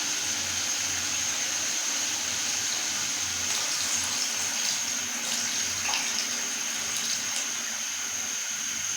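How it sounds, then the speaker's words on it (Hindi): Steady rushing stream of water, two glasses, pouring into a pot of kofta curry, continuous and fairly loud throughout with no talking. "अभी हम इसमें 2 गिलास पानी डाल देते हैं।"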